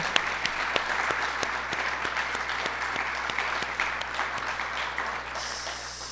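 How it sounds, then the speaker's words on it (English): Audience at a University of Maine state of the university address applauding, steady dense clapping from a large crowd throughout. "Yeah, we can clap for that."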